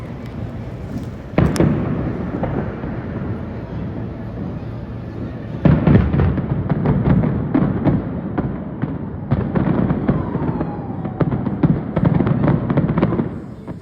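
Fireworks bursting at a distance, a scattered series of sharp pops and crackles over a steady rumbling background, with a few louder bangs.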